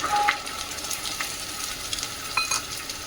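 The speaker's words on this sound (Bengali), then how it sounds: "এটা দিয়ে আবার হালকা কষে নেবো" Ginger frying in a pan with tomato and coconut paste makes a moderate steady sizzle, with light stirring and scraping and a couple of brief clinks.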